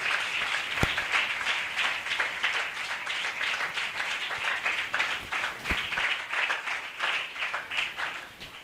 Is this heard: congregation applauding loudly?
yes